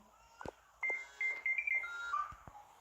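Phone ringing in a Toca Boca mobile game: bright electronic tone bursts repeat in a short, steady pattern, clear and close, with no talk over them.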